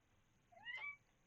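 A pet cat gives a single short, soft meow, faint and alone in a quiet room.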